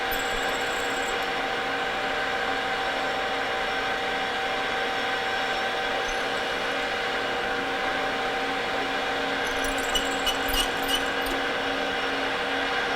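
A metal lathe cuts a metal workpiece with a steady, close machine drone that hums evenly throughout, with a few faint higher clicks near the end and no talking.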